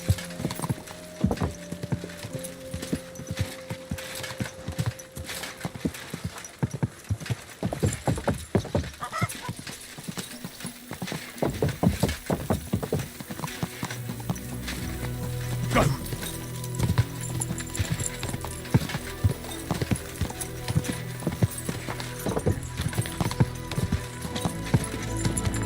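Horse hooves clip-clop steadily in the Kingdom Come: Deliverance II video game, loud and close, with brief neighs and voices over a continuous game background.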